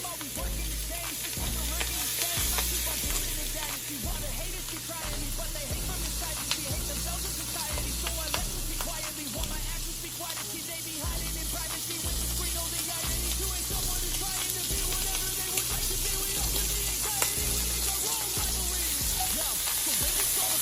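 Diced lobster tail sizzles steadily in a hot pan, a loud, even frying hiss that holds without a break for about twenty seconds.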